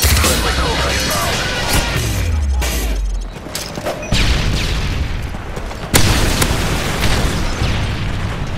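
Flashbang grenade detonating in a Modern Warfare 3 Search and Destroy online match: loud booming bursts with sharp cracks and a dense rumbling wash, mixed with game effects and a sudden loud hit near the end.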